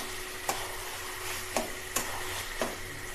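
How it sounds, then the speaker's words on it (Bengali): A spoon stirs sugar into spinach and chickpea greens in a pan, with four sharp scraping knocks against the metal over a soft steady sizzle. "চিনিটা দিয়ে আমি ভালো করে মিশিয়ে নিচ্ছি"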